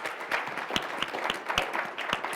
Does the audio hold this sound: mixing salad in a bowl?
no